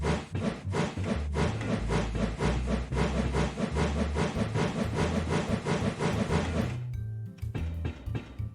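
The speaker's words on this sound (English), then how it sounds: "Blow the whistle." A Minecraft RoW modpack steam train lets out a sustained hissing whistle over rhythmic chugging, continuous and fairly loud before cutting off into quieter mechanical clinks.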